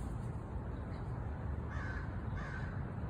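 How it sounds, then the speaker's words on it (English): A crow caws in an outdoor wildlife setting, two faint caws partway through over steady low background noise. "Oh, and there's a crow."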